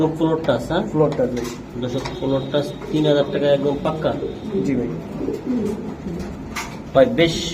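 Pigeons in a loft, breeding pairs kept with eggs and chicks, coo in repeated soft throaty phrases close by, with people talking over them and a clink of dishes now and then.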